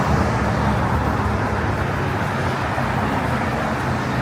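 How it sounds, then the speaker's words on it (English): Loud, steady car traffic roars along an evening street in Manhattan, New York City, a dense continuous wash of engines and road noise with no gaps. "Cars are quite loud."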